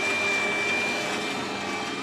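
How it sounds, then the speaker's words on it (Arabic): The cooling fan of a conveyor-belt bag sealing machine with date printing runs nearby, a steady loud whirring hum with a faint high whine, unchanging for the whole stretch and without any voices. "الزرار ده بشغل منه المروحة، هي موجودة معايا هنا"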